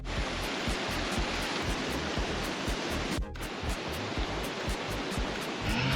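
A river flows in a steady, dense rush of water close by, broad and unbroken, with a single brief knock partway through.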